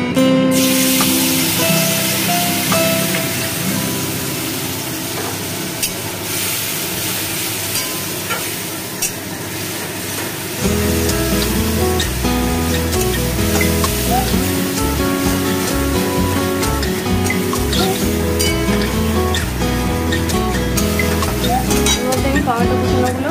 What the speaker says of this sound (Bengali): এই মশলাটা আমি এই গরম তেলে দিয়ে দেব